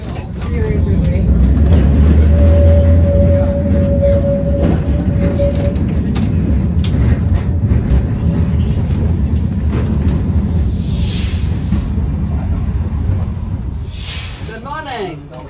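A heritage tram runs on the Dockline in Auckland, giving a loud, steady rumble and rolling rail noise that fills the whole stretch and fades slightly near the end.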